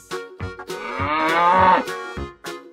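A cow in an animal video game lets out a loud, drawn-out moo, close and clear, between short voiced sounds.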